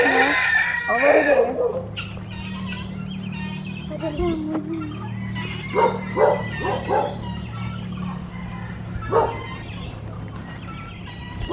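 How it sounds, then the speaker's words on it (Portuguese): Noisy guinea fowl and chickens call and squawk repeatedly, with a rooster crowing and a dog barking among the clamor over a low steady hum. "E aí tem umas galinhas super barulhentas ali"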